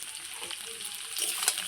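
Pieces of taro (sajji kochu) sizzle in hot oil with salt and turmeric, a soft continuous crackle with occasional stirring scrapes and a slightly louder spit near the end.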